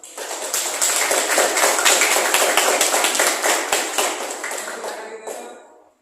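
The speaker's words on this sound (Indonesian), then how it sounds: "Jadi tepuk tangan dulu Bapak" A class applauds group 6 after their presentation, a dense, lively burst of many hands clapping close by for about five seconds, fading out at the end, with faint voices underneath.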